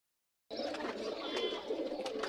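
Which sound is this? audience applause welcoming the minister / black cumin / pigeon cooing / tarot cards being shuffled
pigeon cooing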